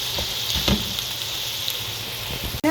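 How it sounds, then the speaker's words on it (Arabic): Onion and chicken pieces frying in a pan give a steady, close hiss of sizzling oil, with a few brief clicks of stirring and a sharp knock near the end. "بعد يحمس ويا البصل"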